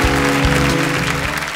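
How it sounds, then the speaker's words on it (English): An audience applauds at the grand finale of a beauty pageant, the dense clapping mixed with loud, bass-heavy music playing at the same time. "Let's have a huge round of applause."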